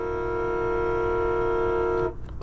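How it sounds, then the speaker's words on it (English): A Maybach 62's horn blares in one steady, loud, sustained honk lasting about two seconds, then cuts off sharply. "The horn definitely works."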